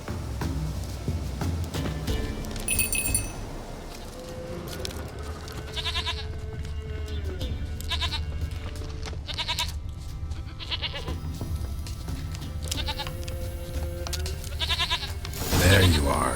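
A goat bleats in the video game The Witcher 3: Wild Hunt, several wavering calls at moderate distance over ambient game sound, with someone speaking briefly in between.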